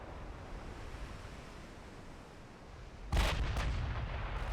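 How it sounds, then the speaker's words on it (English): A warship's rear guns fire in Ultimate Admiral Dreadnoughts. After a low ocean-like rumble, one heavy boom strikes and rolls on in a booming tail, with no talking. "Let's bring the rear guns into action"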